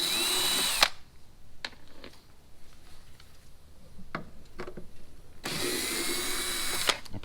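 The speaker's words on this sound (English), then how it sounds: "So a Phillips screwdriver for the top and the bottom, and that should release the tail light." A power drill or driver spins out Phillips screws holding a car's tail light, loud whirring bursts at the start and end with quieter clicks and handling noises between.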